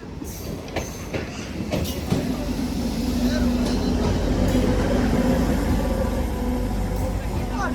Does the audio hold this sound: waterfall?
no